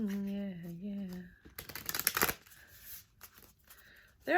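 A deck of slightly sticky Soul Truth self-awareness oracle cards is riffled in one short, crisp papery burst after a woman's speech, followed by quieter handling.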